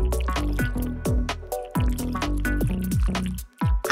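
Paint pours and drips during a drawing and painting challenge, a run of bright, wet, bubbling liquid sounds in quick succession, loud and close, with no talking.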